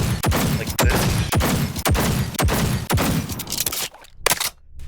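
Rapid shots from the Malorian handgun in the video game Bonelab ring out in a fast, evenly spaced string of loud, sharp bangs, followed by a couple of quieter mechanical clacks as the firing stops.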